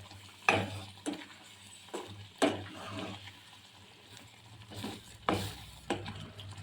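A spoon stirs simmering gravy in a pan on low heat, giving soft scraping strokes at an irregular pace over a faint steady sizzle, close and fairly quiet with no talking.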